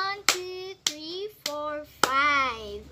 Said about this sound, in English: So let us give each group 5 claps.